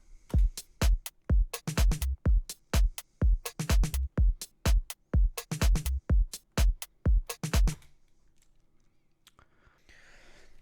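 Crisp electronic drum loop from the Odin freeware VST synthesizer, with tight, punchy hits in a quick repeating rhythm for about eight seconds, then it stops and a faint hiss remains.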